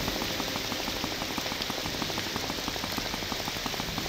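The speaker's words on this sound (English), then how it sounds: "It's still raining! Bro, it rains so much in this game." Steady rain in the video game Morrowind, a dense, continuous hiss of falling water with fine patter, unbroken and even throughout with no voices.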